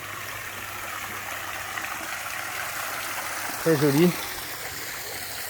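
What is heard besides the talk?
outdoor villa cascade water flowing from infinity pool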